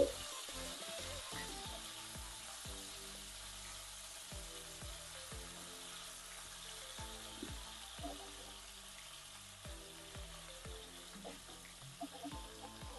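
Wide-cut paneer pieces frying in salted oil, a steady broadband sizzle running throughout with repeated soft low thumps as pieces are dropped in one by one, moderately loud and close with no talk.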